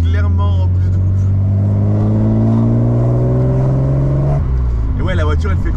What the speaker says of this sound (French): quand on met pied planche, on sent, la ligne fait beaucoup moins de bruit en fait